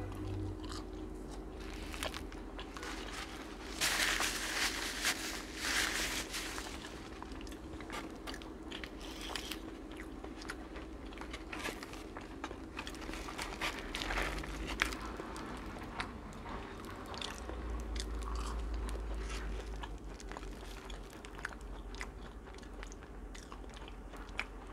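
Close crunchy bites and steady chewing of french fries served alongside an ahi tuna burger, with repeated crisp crackles and soft mouth sounds throughout and no talking.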